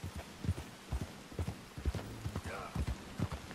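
Horse hooves clop on the ground in Red Dead Redemption 2, an irregular series of close, thudding steps with a brief low hum and a faint whinny partway through.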